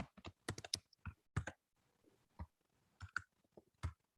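Someone types on a computer keyboard during a commission meeting, sharp key clicks landing in quick bursts separated by short pauses in a quiet room.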